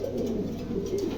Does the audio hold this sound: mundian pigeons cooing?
yes